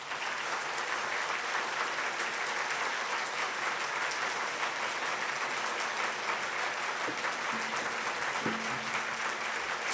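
Audience in a hall clapping hands rapidly and continuously for about ten seconds, a dense, steady wash of applause with no pauses, moderately loud and even throughout.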